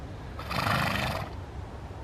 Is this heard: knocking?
no